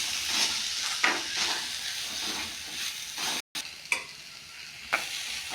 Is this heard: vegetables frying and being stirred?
yes